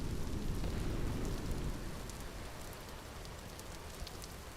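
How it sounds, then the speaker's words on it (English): Steady rain falls during a thunderstorm in the Vintage Story video game, a dense continuous hiss with low rumbling that eases slightly partway through, with no talking. "Right during the storm."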